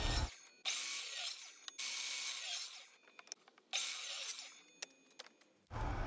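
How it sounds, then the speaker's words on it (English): A miter saw cuts pallet wood boards to length in several fairly quiet bursts of whining, rasping noise separated by short pauses and small knocks. "Here I am cutting the boards to length with my miter saw."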